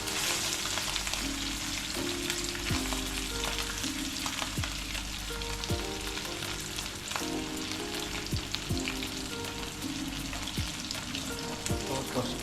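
Food fries steadily in a pan, a dense unbroken sizzle with crackling pops, heard alone and close.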